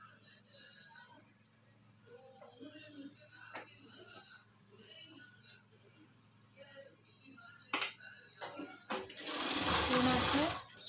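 A sewing machine runs in a loud burst near the end, stitching the seams of a size 36 princess-cut blouse with lining, after quieter rustling and soft handling sounds.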